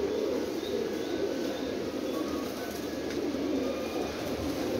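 Pigeons kept in a loft in Jhelum coo steadily and close by, a continuous low murmuring over a busy background, with no talk.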